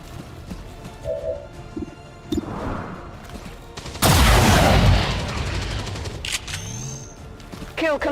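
Gunfire in the video game XCOM 2, a few sharp shots and a loud burst of firing amid game effects, with brief mechanical clicks and tones around it.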